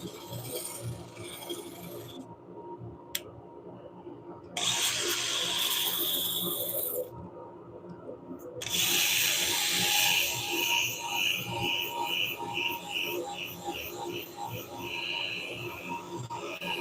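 A wooden bowl is sanded on a spinning lathe: soft, steady rasping and rubbing that comes in separate bursts, some louder and harsher, with quieter gaps between them.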